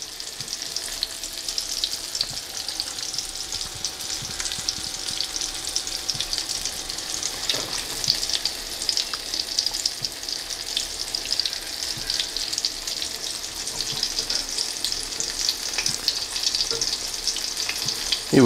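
Steady, close sizzling of pike cutlets frying in a pan, continuous crackle and spatter throughout with no talking.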